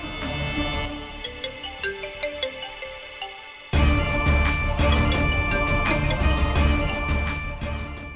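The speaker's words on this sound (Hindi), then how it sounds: "आ गया फोन।" A melodic phone ringtone plays in a Hindi TV drama scene, switching partway through to a louder, fuller musical ring that continues steadily.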